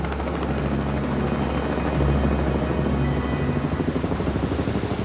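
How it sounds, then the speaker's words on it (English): A rescue helicopter's rotor thumps in a steady fast pulse over a loud engine drone, close and continuous with no talking. "Rescue helicopters were soon at the crash site"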